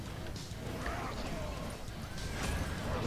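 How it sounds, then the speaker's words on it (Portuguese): A horse in the video game Smite gallops with quick clip-clop hoofbeats and lets out a neigh, amid game effects, while a player talks over it. "O cara montou na égua."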